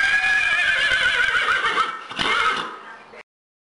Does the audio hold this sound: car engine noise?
no